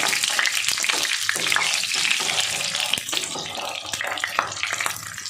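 Four slit green chillies and black cumin seeds sputter in hot oil for a Bengali rohu fish curry. A steady, close, bright crackling hiss runs throughout, with scraping stirs, and no voices.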